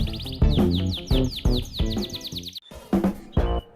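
A pet canary sings loudly and close by, with rapid repeated chirps and bright trilling phrases broken by a brief pause before the song resumes.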